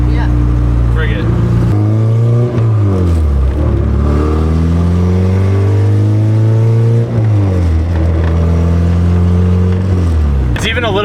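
A fully built LS VTEC engine in a Honda Civic EG hatch revs and accelerates loudly from close up, its rising harmonic drone climbing through the gears with brief drops at each shift, while people talk over it.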